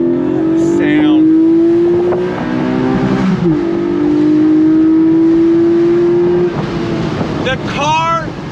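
A Porsche Boxster GTS engine pulls hard on throttle, its loud rising tone climbing through the gears with brief dips at each shift, sustained and close over wind noise, with a voice cutting in near the end.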